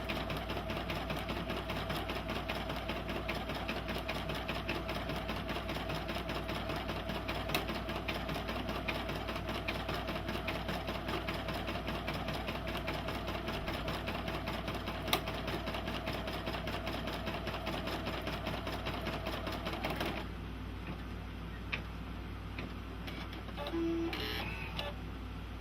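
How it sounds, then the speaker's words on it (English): A Brother PE-770 embroidery machine stitches a digitized design with a fast, steady mechanical whir and needle chatter for about twenty seconds, then stops, leaving a few scattered clicks and faint beeps. "the machine says we're finished sewing"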